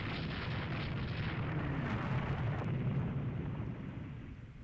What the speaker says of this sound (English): Just took a full broadside there